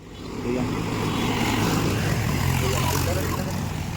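A loud, droning engine rumble swells in and holds steady as tractors returning from a Ganpati immersion roll past close by, a continuous mechanical hum without pause.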